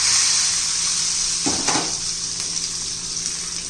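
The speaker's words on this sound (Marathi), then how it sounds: "हे आपल्या चटणीला तडका देऊया." Tadka tempering with asafoetida sizzles loudly for ridge gourd chutney: a strong, continuous hissing fry with a brief burst of spattering midway, then a steady sizzle.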